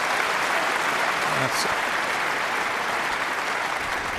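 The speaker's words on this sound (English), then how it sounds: "And that'll get a terrific round of applause." A snooker crowd at the Masters gives steady, sustained applause, a continuous wash of clapping with a brief voice over it.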